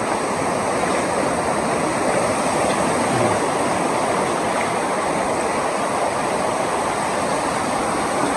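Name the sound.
big sea waves at Telisai beach, Brunei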